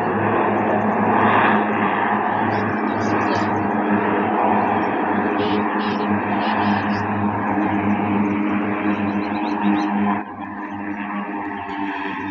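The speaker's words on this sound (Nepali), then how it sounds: "टेकअप गरेको यो प्लेन काठमाडौँबाट आएर।" An airplane arriving from Kathmandu takes off at Ramechhap Manthali Airport, a steady loud broadband engine roar that holds for about ten seconds before dropping sharply in level as it pulls away.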